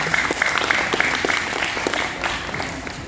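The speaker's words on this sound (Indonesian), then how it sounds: "berikan tepuk tangan dulu untuk evaluasi dari para juri." An audience claps for the judges at a Kamasan wayang colouring contest, giving a continuous, fairly loud round of applause with scattered sharper claps and a faint voice underneath.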